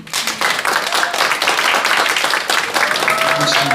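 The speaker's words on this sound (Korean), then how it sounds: "다시 한번 큰 박수 부탁드리겠습니다" Loud, close crowd applause at a culture awards ceremony, thick continuous clapping after a brief onset, with faint voices and a tonal sound beneath.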